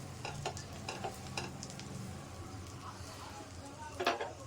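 Slices of bread frying in melted butter in a kadai, with a steady low sizzle and a few sharp crackling bursts as the bread settles into the hot pan.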